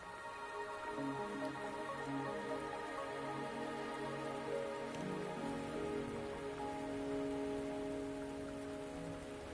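Steady rain falls on surfaces in the Wuthering Waves game world, a dense, even patter that stays constant throughout. Soft tonal game music hums underneath, and no one speaks.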